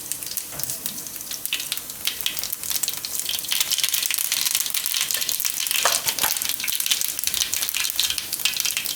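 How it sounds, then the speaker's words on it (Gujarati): Cumin and mustard seeds sizzling in hot oil for a Gujarati stuffed bottle gourd dish, a steady loud crackling fry with popping throughout, close and uninterrupted by talk. "એમાં નાખીશું આપણે જીરું,"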